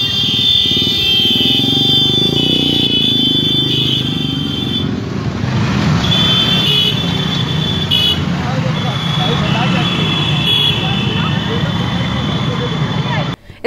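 Motorcycle engines from a rally of hundreds of teachers riding through a block's main roads, a steady loud rumble of many bikes with occasional horn toots and crowd noise throughout.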